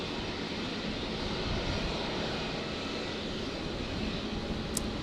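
An Airbus A380 taxis far off at Brisbane Airport, a faint, even wash of engine rumble and hiss holding steady throughout with no other sounds.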